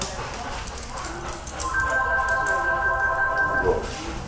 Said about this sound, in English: Listen to the other puppy that's in the other room.